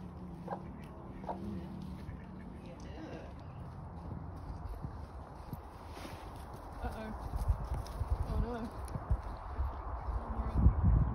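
A horse walking on a farm, its clip-clop hooves heard close amid people talking, with scratching and shuffling noises and the hoofbeats growing louder toward the end.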